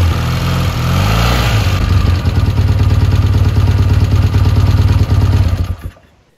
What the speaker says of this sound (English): Start the engine and warm it up for a couple of minutes until the idle is steady.